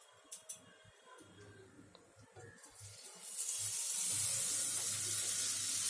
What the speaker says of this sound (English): Now I am taking the same kadai and put butter on it.